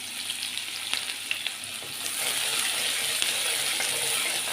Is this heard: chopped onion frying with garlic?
yes